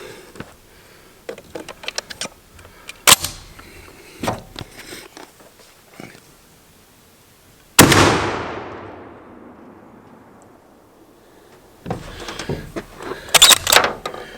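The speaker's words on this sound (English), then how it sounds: "I'm going to fire the other three. I'm going to see how good we can group these." A shotgun firing slugs at a target outdoors, one loud close blast with a long decaying echo, surrounded by handling clicks and rustles before and after.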